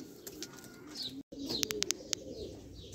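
Pigeons, among them red Shirazi and black Shirazi fancy breeds, coo inside a netted loft, with a low murmuring coo running under several sharp close chirps and brief calls, no talking.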